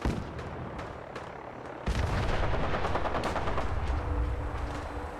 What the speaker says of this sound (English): Where are they all shooting at?